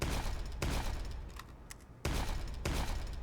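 Team Fortress 2's Loch-n-Load grenade launcher fires in close, loud blasts, three distinct shots at roughly one-second intervals, each a dull thumping burst with brief decay.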